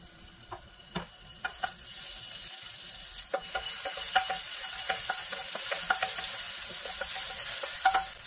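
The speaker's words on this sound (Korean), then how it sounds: "웍에 식용유 2큰술 두르고 다진 마늘 1큰술 넣어 볶아주세요." Minced garlic stir-frying in a spoonful or two of cooking oil in a wok, a soft crackling sizzle that builds after a few spatula taps and scrapes, fairly quiet and close with no one talking.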